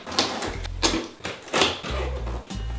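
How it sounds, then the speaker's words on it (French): Tape is peeled in a few short ripping pulls off a cardboard monitor box, close by, with small thumps and rustles in between. "J'enlève le scotch."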